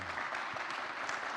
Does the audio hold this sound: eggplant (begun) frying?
no